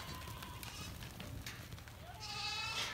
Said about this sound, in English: 540 billy goats, rangeland billy goats to be sold over two lots